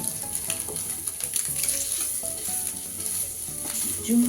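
Paneer cubes frying in a pan, giving a continuous close sizzle with occasional stirring clicks throughout and no voices.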